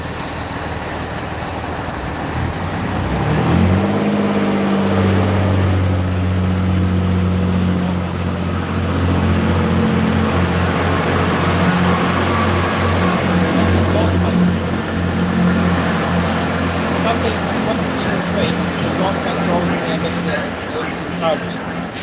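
A large diesel train locomotive at Dawlish rumbles steadily with a deep, throbbing drone that rises after a few seconds and holds, mixed with broadband mechanical noise.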